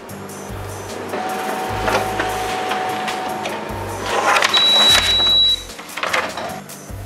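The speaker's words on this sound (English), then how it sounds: "you can print a report" A Canon imageCLASS LBP722Cdw colour laser printer prints a report steadily, with whirring feed motors cycling on and off and a brief high whine near the end, no voices.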